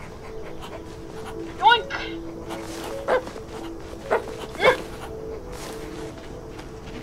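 Dog in the video game Hello Neighbor 2 giving a few short, sharp yelps and barks over a steady background hum, with a voice speaking briefly.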